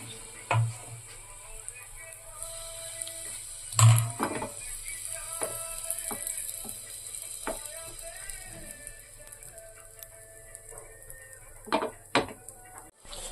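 A small spoon clinks and taps against a pan while batter is spooned in for Bengali patisapta pancakes, giving sparse metallic clicks over a faint sizzle in a quiet kitchen.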